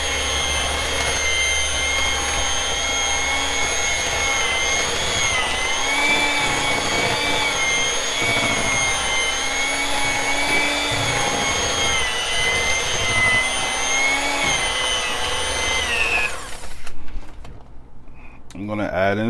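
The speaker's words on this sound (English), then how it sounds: "Start to mix it." An electric mixer whirs steadily as it mixes lemon cake batter, a loud continuous motor hum that holds for most of the stretch before cutting off near the end, with a little handling noise afterward.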